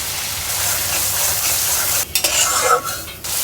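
Ground spice paste fries in hot oil for a fish dish and is stirred continuously, a loud close sizzle with a utensil scraping and clinking against the pan in the last second or so.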